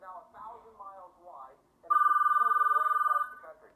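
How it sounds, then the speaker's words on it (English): In a video game, a phone rings with a bright electronic trill that starts partway through and rings for over a second after some soft mumbled game speech, with speech resuming faintly near the end. "Phone call."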